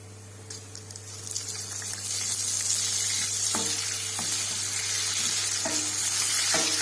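Butter sizzling and crackling in a pan as bulgur is toasted, a steady loud fry with intermittent sharper pops and stirring scrapes throughout.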